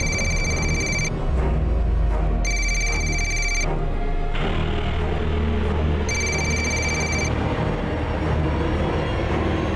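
A telephone ringing in a repeated two-burst pattern, loud and close, over a continuous background of a train rumbling along the rails.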